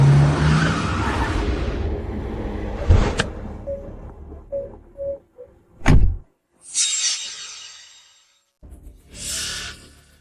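A car drives hard with tires squealing and skidding, loud and close, followed by sharp thuds like doors and short bursts of engine noise, in a tense kidnapping chase scene.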